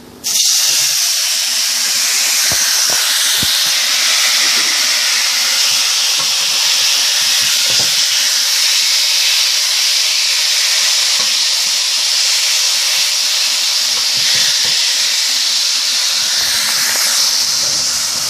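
Prepared steak sizzles in a hot pan, a loud, steady, broad hiss of spitting fat and steam that holds for the whole stretch, with small pops scattered through it.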